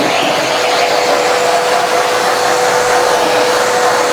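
A Bissell AeroSwift vacuum with its dusting brush runs on a dusty table, producing a loud, steady motor whir that stays constant throughout.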